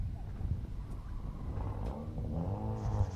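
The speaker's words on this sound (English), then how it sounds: "Matthias out there in that MX-5 in his novice street." A Mazda MX-5 on an autocross course at a fairgrounds, its engine revving and pulling through gears with rising pitch, moderately near, with faint background noise.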